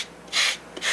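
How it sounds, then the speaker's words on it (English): Two short rasping strokes of an 80-grit sanding block scraping across a wooden model airplane wing, close and fairly loud, with a brief pause between them. "So we'll just take a sanding block."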